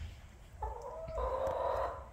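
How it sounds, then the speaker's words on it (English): Chickens clucking close by, a couple of short throaty calls followed by a longer drawn-out cluck, with faint rustling underneath. "I need to keep these chickens out."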